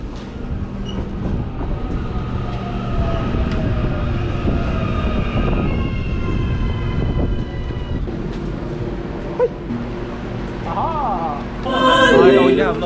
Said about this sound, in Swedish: Tåg!